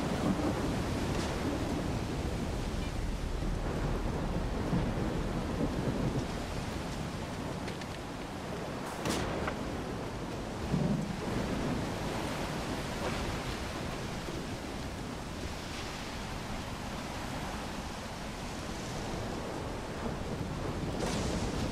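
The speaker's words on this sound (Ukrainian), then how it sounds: "Як хтось з пістолетика стріляє. Але це блискавка." Thunder rolls and cracks amid the storm weather of the video game S.T.A.L.K.E.R. 2, with one sharp strike partway through over a steady rumble of rain and wind, no voices.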